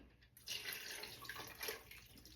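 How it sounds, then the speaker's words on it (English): Water pours into a blender jar holding frozen strawberries for strawberry lemonade, a close, steady splashing gush that starts abruptly and runs for a couple of seconds with no voices. "So I'm just going to add some water."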